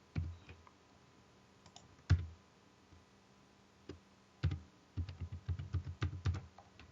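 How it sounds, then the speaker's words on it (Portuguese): Fingers typing a username and password on a computer keyboard, scattered single key clicks at first, then a quicker burst of close, crisp taps. "você vai digitar o usuário e senha que você criou"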